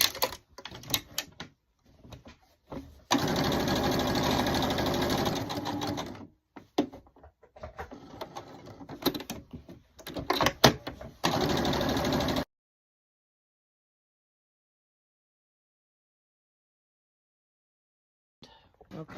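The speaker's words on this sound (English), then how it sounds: "A few stitches, and then I'm going to use the side of my presser foot" Sewing machine stitching a quilt with a presser foot, running in fast steady mechanical bursts that start and stop, nearby and fairly loud, then going silent.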